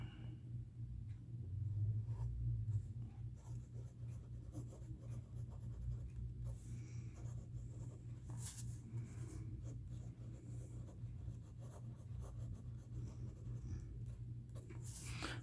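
Fountain pen nib scratching across paper, a Jinhao 992 with an extra-fine hooded nib, writing steadily for the whole stretch as a soft, close, continuous scratchy rustle over a low background hum.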